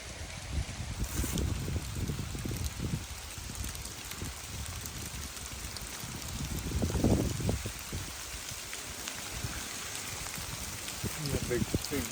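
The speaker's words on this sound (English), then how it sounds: "Oh, it's doing it again. Woo! Big sleet pellets." Large sleet pellets patter and rattle down on a wooden shelter along the Appalachian Trail, a steady dense hiss with brief heavier bursts, and a person talks over it.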